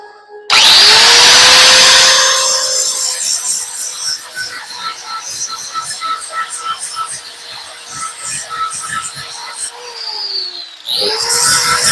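Power grinder working on a blacksmith hammer held in a vise, a high whine starting abruptly then grinding loudly with shifting pitch as it bites the steel, winding down near the end before starting again.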